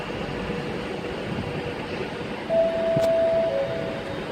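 A Class 350 electric multiple unit at Crewe station on the West Coast Main Line, a steady low rumble and hum that swells slightly partway through, with a thin tonal whine near the end.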